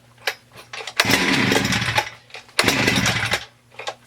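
A Husqvarna 394xp chainsaw, running rich with a low idle, revs in two loud, uneven bursts between brief drops toward idle, sounding rough and close.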